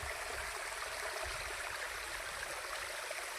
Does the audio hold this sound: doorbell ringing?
no